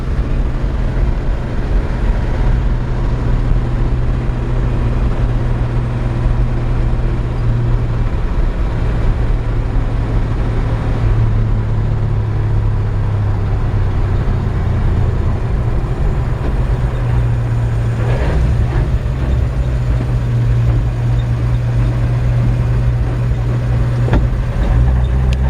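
A 1954 Chevrolet 3100 five-window pickup truck drives steadily, its engine a continuous low rumble heard from inside the cab, loud and unbroken with no talk.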